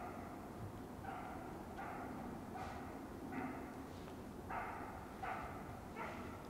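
Hunting dogs bark during a driven hunt for red deer and wild boar: about seven short barks or yelps at fairly even intervals, somewhat distant, over a steady outdoor background.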